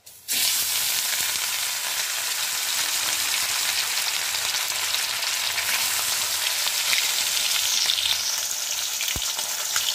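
Bhetki fish frying in a pan of hot oil, a loud, steady, close sizzle that starts abruptly and holds without a break.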